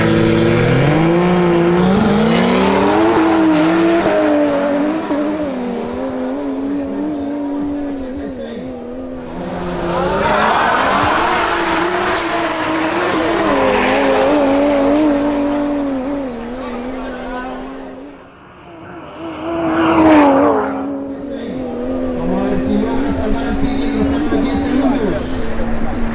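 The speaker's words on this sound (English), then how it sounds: "Now we return to the rematch between Jose Gomez in his BMW 325i and Alejandro Martinez in his Audi RS3." A BMW 325i and an Audi RS3 in a drag race, engines revving hard and rising in pitch through upshifts, loud and close with a brief dip mid-run before both roar again, while a commentator talks over them.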